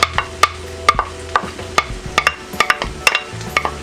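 Garlic sautéing in a little oil in a pan, quiet sizzling under a run of sharp, repeated metallic scrapes and taps from stirring.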